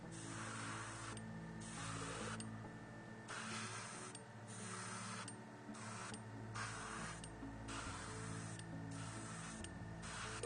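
Aerosol or airbrush spray hissing steadily while painting a Space Wolves miniature, close and continuous, broken by a few short regular pauses between passes, with a faint mechanical whir underneath.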